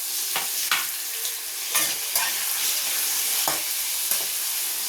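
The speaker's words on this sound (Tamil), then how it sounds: "இது நல்லா வதக்கிக்கிறோம் சீக்கிரம் வதங்கிறதுக்காக லைட்டாக உப்பு தூவிக்கிறோம்" Small shallots and tomatoes frying in a pan for mutton salna, with a lightly salted mix hissing constantly up close and several sharp spatula scrapes and stirs cutting through.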